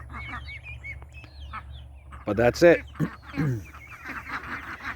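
Young backyard ducks of different ages let out a short run of quacks in the middle of the clip, with someone talking briefly nearby.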